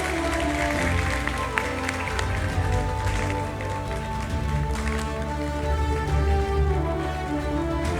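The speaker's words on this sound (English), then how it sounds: "Everyone give a round of applause." At a nature festival, an audience applauds a joint winner while loud music plays, the clapping largely buried beneath the dense musical backing, with some crowd noise mixed in.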